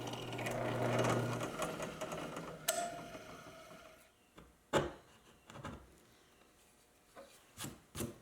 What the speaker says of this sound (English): I'm using the drill press to drill slotted holes to attach the top.